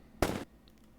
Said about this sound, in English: Whoa, I just heard a gunshot.